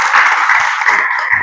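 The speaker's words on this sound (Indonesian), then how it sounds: "silakan tepuk tangan untuk teman-teman kita" A classroom of students clapping together in a short burst of steady, fairly loud applause.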